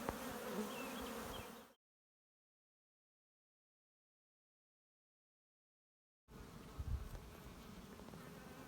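Bees buzz densely around an open hive during a school beekeeping demonstration at the Château d'Espeyran, a close, busy hum heard in two stretches separated by a few seconds of complete silence.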